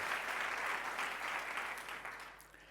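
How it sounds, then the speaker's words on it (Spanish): Audience applause at a Spanish-language tech talk on legacy code, steady dense clapping from a room of listeners that fades slightly toward the end. "os voy a pedir un aplauso para esa organización"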